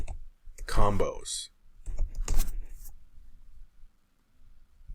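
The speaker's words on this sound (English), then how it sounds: "I don't know why I'm typing in caps here." Short bursts of clicking on a computer keyboard as search words are typed in capitals, mixed in with someone speaking close to the mic.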